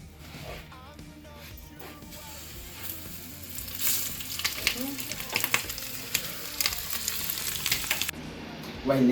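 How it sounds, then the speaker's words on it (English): Braised chicken sizzles and crackles steadily in oil at 180 degrees in a frying pan, growing louder and busier midway with occasional spatters and stirring. "we put this on oil and frying pan and fry the braised chicken at 180 degrees"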